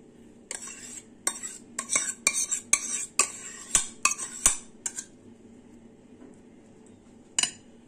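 A metal spoon stirs apple cake syrup in a pan, giving a run of sharp clinks and scrapes in an irregular rhythm, close and fairly loud, then a pause and one final clink.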